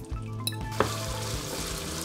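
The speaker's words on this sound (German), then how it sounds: "der Rauchtofu ist jetzt hier schön am Anbraten" Smoked tofu fries in fat in a pan with a continuous bright sizzle, plus a few clinks and scrapes of stirring close by and no talk.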